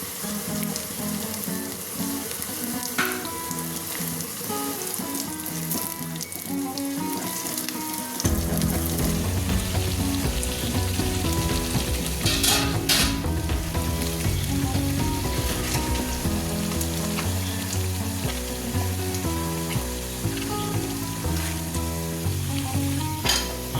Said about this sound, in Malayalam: ഉള്ളി മൂത്തിട്ടുണ്ട് കേട്ടോ. അതിലേക്ക് വറവിടാം.